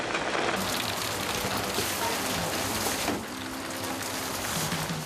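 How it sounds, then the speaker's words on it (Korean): Steady rain pours during the tail end of the monsoon season, a dense, continuous hiss of drops hitting surfaces close by, with no other clear sounds. "긴 장마의 끝자락. 하루 종일 비가 오락가락하는데요."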